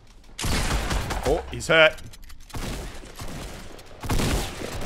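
Sniper gunfire in a Fortnite Battle Royale match: a few loud, sharp shots crack out in bursts with mechanical clicks between them, under a player's voice.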